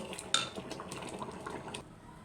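A pot of payesh, a rice pudding, is lifted off a stove, bringing a sharp metallic clink of the pan followed by soft scraping, light clatter and faint liquid sounds that fade into quiet.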